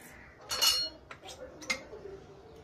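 A few light metallic clinks and a soft scrape of a spoon in a pot as cardamom sugar is tipped into warm syrup and stirred, fairly faint.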